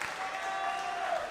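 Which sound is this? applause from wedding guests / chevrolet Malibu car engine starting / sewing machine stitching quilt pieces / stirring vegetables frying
applause from wedding guests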